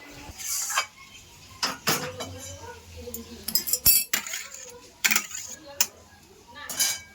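Cooked taro stem (kochu data) curry is transferred into another dish, with scattered metallic clinks and scrapes of a spoon against pots and plates, close by and irregular.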